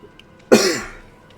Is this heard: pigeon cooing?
no